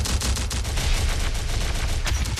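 Dense, continuous gunfire in the video game Terminator Dark Fate: Defiance, rapid overlapping shots and bursts forming a loud, steady barrage with a heavy low thump throughout.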